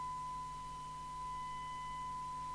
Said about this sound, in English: we're wanting maximum recovered audio, but the best sine wave at the same time